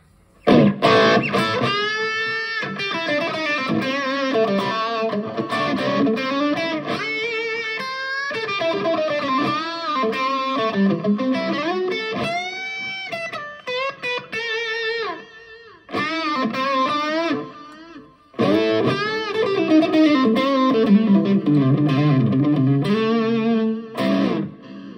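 Distorted Telecaster electric guitar through a Line 6 POD GO, playing melodic lines and bends with lingering reverb trails, briefly dropping out twice before resuming.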